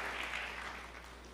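Congregation applauding during an Indonesian church sermon, a steady wash of clapping at moderate distance with no talk over it.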